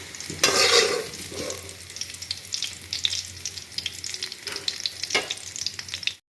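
Bitter gourd pieces frying in oil until brown, giving a close, continuous crackling sizzle with a few louder stirring scrapes near the start and again later, no voices.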